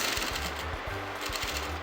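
Domestic sewing machine stitching a pin tuck in fabric, a quiet, close mechanical whir with rapid rhythmic needle clatter running in short bursts.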